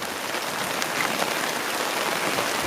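Steady, dense mountain rain patters evenly on surfaces, a constant hiss of drops with no voices, close and moderately loud throughout.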